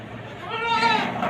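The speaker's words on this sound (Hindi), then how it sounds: "ये एक 4 दांत बकरी है" Four-tooth goat at a livestock sale bleating once, a short wavering cry that swells midway, heard close over faint background noise.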